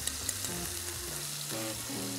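Garlic frying in a hot pan for a kidney dish with sherry, a steady soft sizzle with faint low tones underneath.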